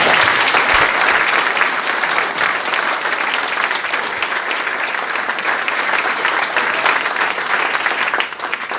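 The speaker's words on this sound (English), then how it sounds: "So give Joe a round of applause for him." Loud, sustained crowd applause at a mayor's re-election campaign announcement, dense clapping that holds steady for about nine seconds before easing slightly at the end.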